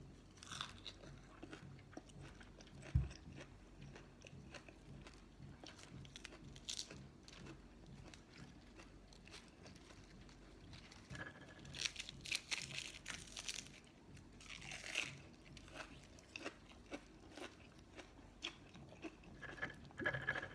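Blanched sesbania flowers are chewed and bitten close up, with soft wet crunching and mouth sounds that come and go over a quiet background and grow busier toward the end.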